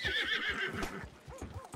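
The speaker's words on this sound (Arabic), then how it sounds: "ما شاء الله على هذا الحصان انه حصان ممتاز" A horse lets out a loud, close whinny that rises and falls over almost two seconds, with faint hoof clip-clops underneath.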